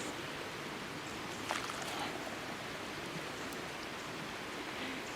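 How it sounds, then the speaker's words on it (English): Hot water poured from a small kettle or pot into a GSI Java Drip ultralight coffee dripper at a backpacking camp, a soft steady splashing trickle held at an even level throughout. "you just take your hot water and you pour it into the drip system here"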